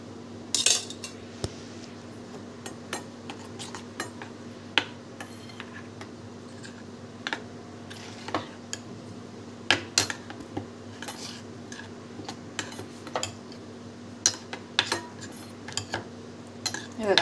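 A spoon mixes ground chutney with oil in a bowl, producing light, irregular metallic clinks and taps against a quiet steady hum, close and fairly soft.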